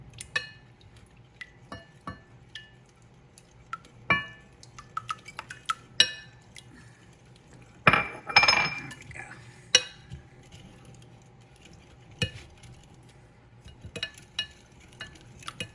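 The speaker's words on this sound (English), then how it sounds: "Keep it stirring." Spoon stirring sugar-free pecan pie filling in a pot, with scattered light scrapes and clinks against the metal and a brief louder rattle midway, otherwise quiet.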